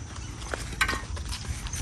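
Horse hooves clip-clop at a moderate distance, a few irregular hollow knocks over a low rumbling background.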